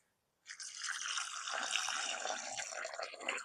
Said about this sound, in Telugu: నీళ్ళు పోయి